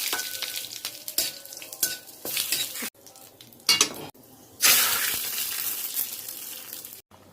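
Cumin, dried chillies and bay leaf fry in mustard oil with a loud, close sizzle, interrupted by stirring scrapes and clanks of a utensil against the pan, with sudden bursts and short pauses.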